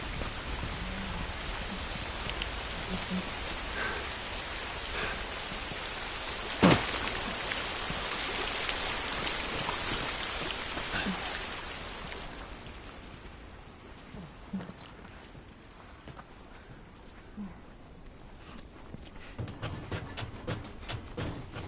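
Rain pours in The Last of Us as a dense, steady wash that fades noticeably about two-thirds through, leaving quieter scattered drips and muffled movement.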